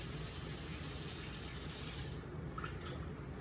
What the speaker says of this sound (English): Immediately rinse it with hot soaping water.